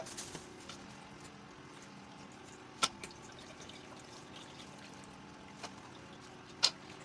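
A few sparse drops of liquid fall with long pauses between them while palm fruit liquid is strained, quiet and close, over a faint steady background hum.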